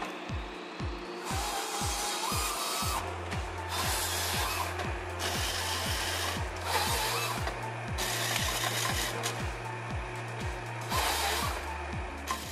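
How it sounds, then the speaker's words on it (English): A Waratah 622 harvester head processing a tree, a rapid regular series of mechanical clanking pulses with a steady engine drone behind, loud and continuous. "The time it takes for this machine to process a tree only takes about 3 minutes."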